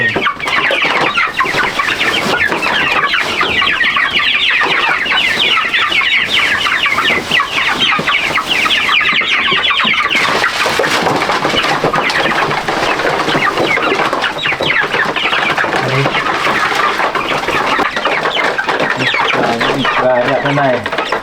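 A flock of farm chickens clucks loudly and continuously, with overlapping busy calls from many birds close by. Faint human voices sit beneath the clucking.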